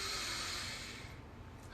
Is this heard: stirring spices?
no